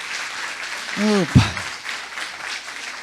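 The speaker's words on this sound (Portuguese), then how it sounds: "Você pode dar uma salva de palmas para este casal?" A church congregation applauds a couple with steady clapping through the whole stretch, while a man exclaims briefly partway through.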